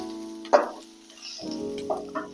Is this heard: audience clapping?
no